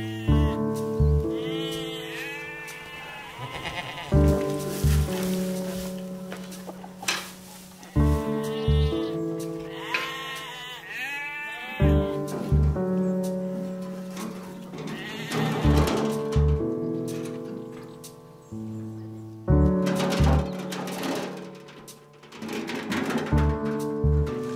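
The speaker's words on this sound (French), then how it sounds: "Je vais nourrir les chèvres." Goats bleat repeatedly at feeding time on a farm, several loud, wavering calls overlapping in bursts throughout, some near and some farther off.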